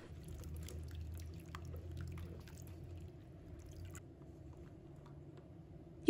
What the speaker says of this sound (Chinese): 把表面清洗干净